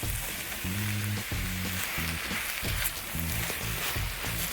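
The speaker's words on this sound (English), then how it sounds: "Now I'm going to add my peppers." Peppers sizzle in a pot beside chicken and broccoli as a steady, close frying hiss, with a soft voice and faint tonal sounds underneath.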